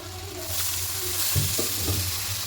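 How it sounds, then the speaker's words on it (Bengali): Water splashed into a pan of frying soybean spice masala with chilli, cumin and turmeric powders, a loud steady sizzle with bursts of crackling and stirring scrapes, no voices. "একটু সামান্য জল দেব"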